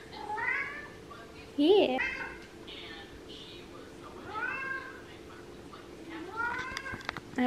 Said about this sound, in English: the cat's now inside and meowing a lot